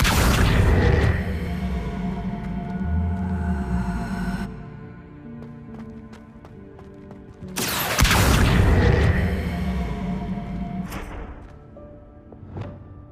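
Booming, whooshing spell effects from the video game Hogwarts Legacy, with two loud bursts of blasts and rumble separated by a quieter stretch of lingering magical hum and crackle.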